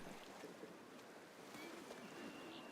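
Rough, churning pool water in the theme-park building game Planet Coaster 2, a faint, steady wash of splashing and surging like surf that carries on evenly without pause.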